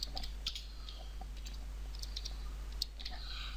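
Quick, light clicks of a computer keyboard as a short phrase is typed in a C# coding session, faint and close, in a brief irregular burst.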